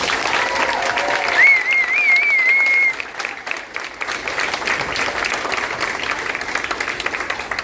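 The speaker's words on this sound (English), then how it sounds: "let's give them one more round of applause" Parents and guests applaud a group of students at a school event: a loud burst of crowd clapping that drops sharply after about three seconds into lighter, scattered applause, with a brief whistle near the start.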